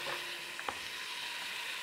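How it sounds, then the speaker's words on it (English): Garlic sizzling in hot olive oil, a steady close hiss with a couple of small pops partway through. "you can definitely hear that sizzle"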